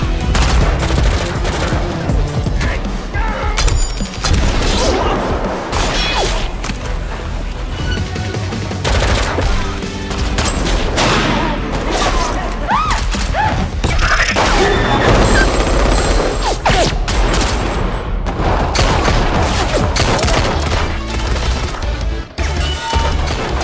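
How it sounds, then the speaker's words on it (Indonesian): A gunfight in an action film, with dense bursts of automatic fire, single shots, booms and crashes running loud and nearly continuous, mixed with cinematic sound effects. "terjadilah tembak-tembakan"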